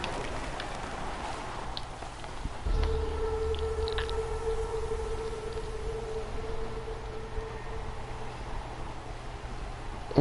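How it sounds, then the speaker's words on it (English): A distant siren in the video game Horizon Zero Dawn wails with a steady held tone over a low rumbling, rain-like hiss, fairly faint and sustained. "More sirens."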